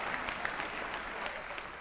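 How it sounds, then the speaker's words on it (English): An audience at a school district education talk claps steadily for a couple of seconds, a dense, moderately distant patter with no voices. "Oh my God, you're clapping."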